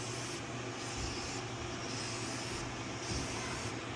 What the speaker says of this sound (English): So just kind of hit it with some carb cleaner